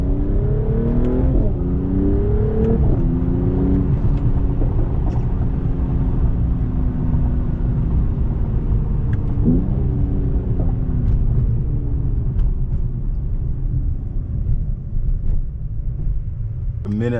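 A 420+ hp AMG car driving through downtown Toronto, its engine roaring through repeated hard accelerations with rising revs and gear-shift drops, loud and close from inside the cabin, with some talk underneath.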